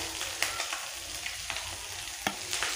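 Oil hisses and crackles in a hot pan while cooking Bengali rui fish head with cabbage, a steady close frying sizzle broken by a few sharp pops and stirring clicks.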